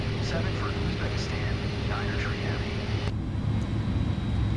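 Simulated Airbus A310 airliner taxiing after landing in Microsoft Flight Simulator 2024, a steady low engine hum and rumble running throughout at even loudness, with faint chirps early on and a tonal whine that cuts out partway.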